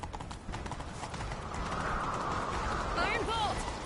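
Rapid hoofbeats of a galloping horse in a video game pound steadily throughout, loud and close, over a bed of noisy background.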